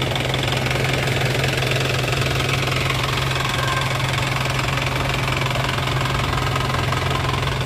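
A 1998 Isuzu Panther Grand Royale idles steadily with its hood open, a dense, continuous knocking engine clatter heard up close and evenly loud throughout, with no one speaking.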